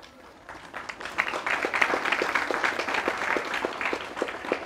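An audience applauds during an Islamic religious lecture about pesantren life, with steady, moderately distant clapping from many hands that swells after a quiet start and continues evenly throughout.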